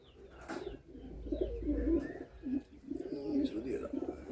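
Two desi pigeons kept as a pair in a cage at a loft give soft, repeated low cooing calls, close by and fairly quiet, with faint background noise.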